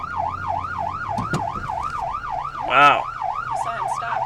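An ambulance siren wails in a steady rising-and-falling cycle from the vehicle as it drives to a scene, loud and close, with a brief exclamation and a sharp horn-like burst partway through.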